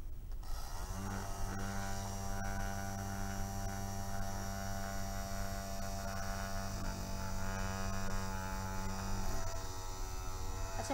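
A small homemade model air cooler with wet foam pads runs with a steady electric motor hum and buzz, close and unbroken throughout, with no talking.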